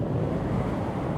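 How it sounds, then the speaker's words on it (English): Wind blowing outdoors and buffeting the microphone, a steady, dense low rumble with no voices heard. "There's the wind."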